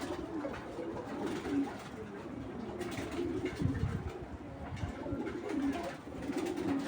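Pigeons in a loft coo in soft, repeated low throaty phrases, fairly faint and continuous with a little background noise and no voices.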